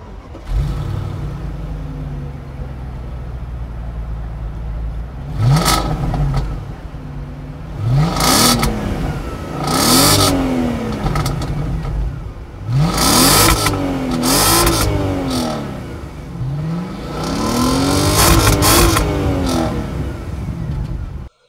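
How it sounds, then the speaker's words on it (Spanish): An Audi S6 C5 V8 revs repeatedly from a steady idle, each loud blip rising and falling in pitch, with the rev bursts coming closer together toward the end. "escuchar este V8, que me imagino que debe sonar muy bien"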